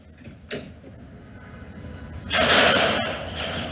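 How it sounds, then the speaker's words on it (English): The rear door of an early first-generation Porsche Panamera opens with a soft click of the latch, followed by a louder, broader whoosh of movement partway through, close to the listener. "let's open that rear door, give people a peek of the interior"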